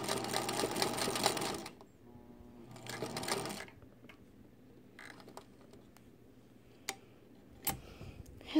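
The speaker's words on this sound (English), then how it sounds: "I'm going to sew backwards. And back forward again." A Singer Featherweight 221 sewing machine runs in two quick bursts of rapid, steady stitching, backward then forward, followed by soft clicks and handling noises in a quiet room.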